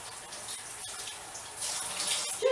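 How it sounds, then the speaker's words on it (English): Food being rinsed under a running kitchen tap for stuffed cabbage rolls, a steady splashing water stream throughout, growing slightly louder toward the end, with no talking. "I take them and I rinse them off a little bit."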